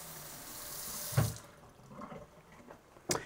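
A kitchen tap runs water into a sink, a steady faint splashing with a couple of brief louder knocks or drips partway through, no talking.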